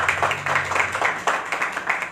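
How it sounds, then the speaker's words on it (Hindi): An audience claps for poet Mahendra Bhishm at a literary forum's second anniversary celebration, a steady, moderately loud patter of many hands lasting a couple of seconds with no talk over it. "वो महेंद्र भीष्म जी के लिए एक बार अच्छे से तालियां"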